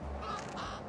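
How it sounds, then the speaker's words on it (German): A crow caws in the video game Little Kitty, Big City, a single short, faint call over a quiet background, with no talking. "Ah, da ist der Rabe wieder."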